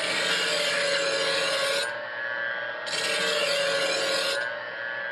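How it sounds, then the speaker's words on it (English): A knife blade draws twice across a powered sharpener to hone its edge, making a loud, close, steady grinding hiss that repeats with a short dip between passes over the running motor's hum. "we're going to make 2 passes to sharpen the edge"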